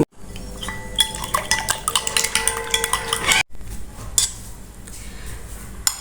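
Egg batter seasoned with salt and ground black pepper being beaten in a bowl, a dense run of quick metallic clinks and scraping strokes for about three seconds, then a short pause and softer, sparser stirring.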